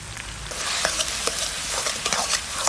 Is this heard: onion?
yes